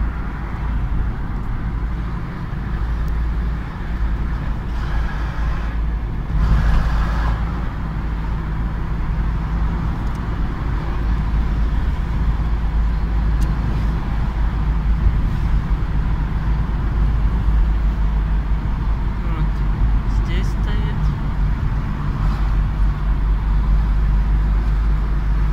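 A car driving along a road, its steady low rumble and tyre noise continuous and close throughout, with no voices.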